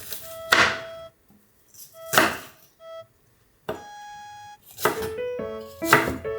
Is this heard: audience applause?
no